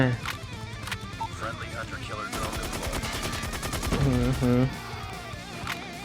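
Rapid automatic gunfire from a Striker 45 shotgun, with bursts and explosions, in a Call of Duty: Mobile match, rattling in dense volleys over game effects while a player talks excitedly.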